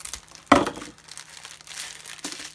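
Scissors snip open the top of a plastic packaging bag: one sharp crinkling crunch, softer rustling, then a second brief crinkle near the end, close and quiet.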